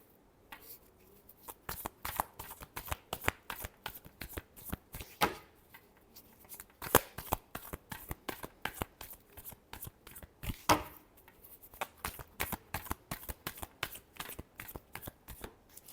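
A deck of tarot cards is shuffled over and over in a quiet room, giving steady runs of crisp, close riffling flutters with brief pauses between bursts and no talking.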